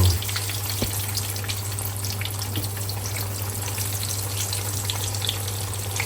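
Eggplant slices frying in hot oil, a steady close crackling sizzle that holds evenly throughout over a constant low hum, with no voices.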